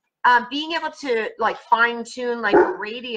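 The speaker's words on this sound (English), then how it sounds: "that's my dog barking." A dog barks at people walking past outside, the barking mixed with and partly masked by someone talking continuously in the foreground.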